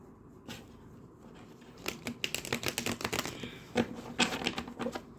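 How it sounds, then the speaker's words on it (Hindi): Quick riffling, clicking flutters of a deck of cards being shuffled by hand, starting sparse and then building into dense bursts of snappy card noise close to the listener. "the cards have had a good shuffle"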